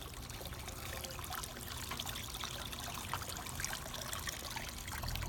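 Water trickles and splashes steadily from a garden fountain built into a bench and planter, a soft continuous outdoor patter heard from nearby with no voices.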